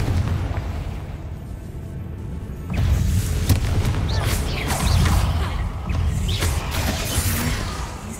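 Confringo fire spell explosions in Hogwarts Legacy, a run of booming blasts and crackling bursts starting after a quieter opening, with a voice talking in between.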